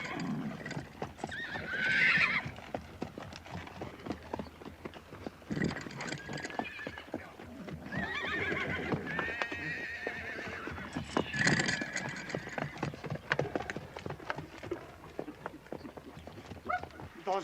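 A large herd of horses in a 1969 western film, repeated loud neighs and whinnies over rumbling, clattering hooves, with overlapping voices and shouts mixed in throughout.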